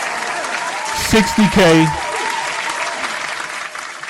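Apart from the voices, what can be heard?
applause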